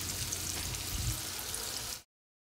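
Ingredients fry in a hot pan for chicken biryani, cooking until golden brown, giving off a steady close sizzle with crackling that stops abruptly after two seconds.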